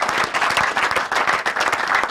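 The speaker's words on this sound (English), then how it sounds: "Let's give him a royal hand clap" An audience at a Nigerian institute event applauds a guest who has just been introduced: loud, continuous hand clapping from many people, close and steady throughout with slight surges, no speech over it.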